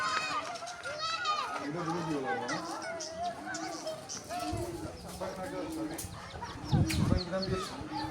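Bangkok × Brazil Indian rooster crossbreed chickens cluck and call intermittently near and far while children play and people talk over them throughout.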